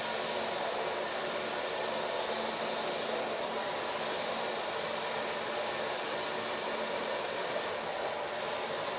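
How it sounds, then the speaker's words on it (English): A handheld hair dryer blows steadily on a woman's freshly colored hair during a salon styling with a medium-large round brush, a constant close roaring whoosh with no talk, plus one tiny click near the end. "Start blow drying."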